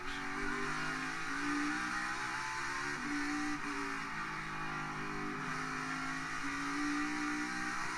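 NASCAR Cup Series race car engines drone steadily from inside the cockpit at Road America in 2021, a sustained buzzing roar with slight shifts in pitch as the car rises and falls through gears.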